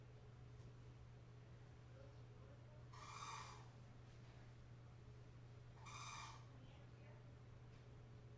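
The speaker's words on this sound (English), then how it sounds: "That's the birds outside begging at the back door." Birds begging outside an open back door give two distinct, harmonic squawking calls about three seconds apart, faint and distant, over a steady low electrical hum.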